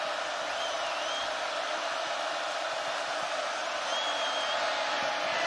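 A large football crowd at Hutson Stadium during a night game between Oregon and Washington roars in a steady, far-off wash of noise, holding constant with faint whoops rising above.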